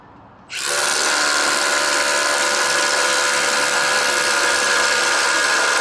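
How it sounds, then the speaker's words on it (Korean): A Milwaukee MX FUEL core drill fitted with an 18 mm bit bores a hole with a dust extractor attached. After a brief quiet moment it starts up into a loud, steady, close-up whine and grinding roar that holds to the end. "FHP는 최대 32mm까지 타공이 가능하고 현재 18mm 드릴비트가 껴져 있다는 점 참고해 주시고요"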